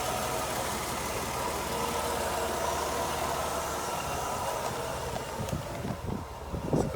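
A 1992 Mercedes-Benz W124 engine with an overheating fault idles close by, a steady low rumble with a faint knocking texture, joined near the end by some handling noises.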